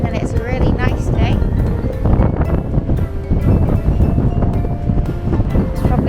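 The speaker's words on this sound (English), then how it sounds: "It's probably a bit windy to be talking to you right now." Strong wind buffets the microphone at the seaside in Brighton, a loud, continuous roaring rumble with gusty surges throughout, while a person talks underneath.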